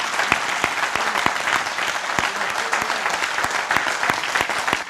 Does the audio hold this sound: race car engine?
no